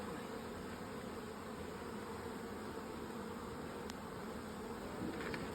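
Garden Buckfast honey bees buzz steadily around a hive while being moved from a nuc, a dense, continuous drone close by with no talking.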